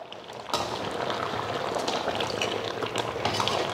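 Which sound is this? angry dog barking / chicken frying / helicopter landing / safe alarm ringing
chicken frying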